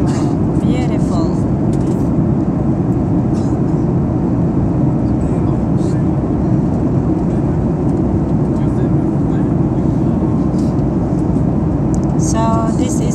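Airplane cabin noise during a flight from Iceland to Stockholm Arlanda: a loud, steady roaring drone that holds unchanged from start to finish, with no pauses.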